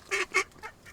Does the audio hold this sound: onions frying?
no